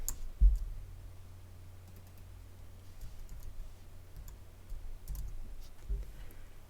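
Quiet clicks of a computer mouse double clicking and light keyboard typing while naming layers in Cricut Design Space, a sparse patter of soft taps over a low background hum.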